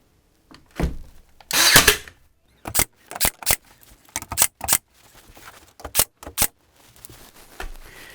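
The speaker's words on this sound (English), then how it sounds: "we're just going to tack it in with our finished nail gun" A finish nail gun tacks a wood trim piece in place, firing a quick series of sharp, close snapping shots in an uneven rhythm with short pauses between them and no voices.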